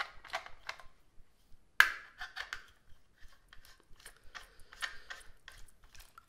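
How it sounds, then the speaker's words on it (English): Zhiyun Weebill Lab gimbal mount being unscrewed by hand, faint close clicking and ratcheting ticks in short uneven bursts, with one sharper click partway through. "if I wanted to go into sling mode, I'd have to unscrew this."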